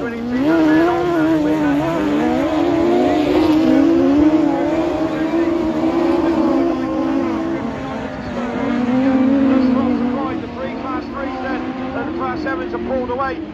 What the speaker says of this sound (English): Gunco 61 just left the north front wheels as he makes his way around this long Monkland venue.